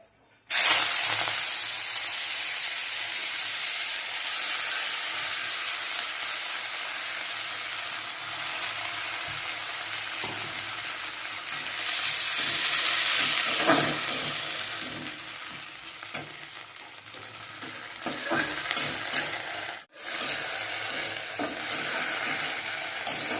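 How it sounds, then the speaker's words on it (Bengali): Steady, loud sizzling of titkumari flowers frying in hot oil on a low flame, a continuous crackling hiss that swells briefly partway through, with no talking. "তেলটা গরম হয়ে গেছে আমি একদম লো ফ্লেমে রেখে এই যে তিতকুমারি ফুলগুলো রয়েছে এই ফুলগুলোকে আমি ভেজে নেবো"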